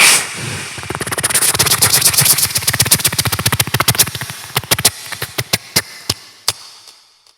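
A comedian imitating a string of firecrackers bursting in a politician's voice, a rapid crackling volley of sharp pops that speeds into a dense burst, then thins into a few spaced loud bangs and fades out.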